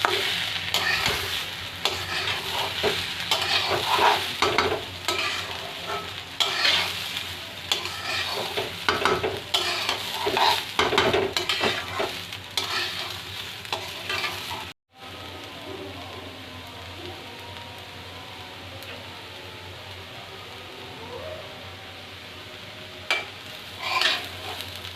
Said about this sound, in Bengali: এবার আমি ভালো করে ডালগুলো ভেজে নেব।